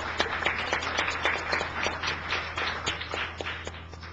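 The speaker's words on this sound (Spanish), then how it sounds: "Bienvenida, un aplauso para María Pía" An audience at a seminar on the right to communication claps to welcome a speaker to the stage, with steady scattered clapping and no talk that carries through the whole clip at moderate level.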